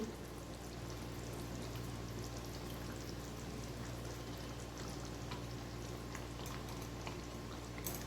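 Steady bubbling and sizzling of a simmering curry gravy, continuous and fairly quiet, with faint splashes as pieces of fried fish drop into the liquid.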